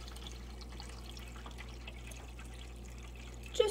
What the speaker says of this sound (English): Okay, so I'm just adding the water,